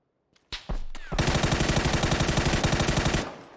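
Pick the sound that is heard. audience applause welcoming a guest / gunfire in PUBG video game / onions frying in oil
gunfire in PUBG video game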